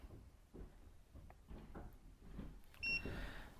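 A Midea Vesta ducted air conditioning controller gives a short, clear electronic beep near the end, preceded by soft clicks and handling sounds from button presses in a quiet room.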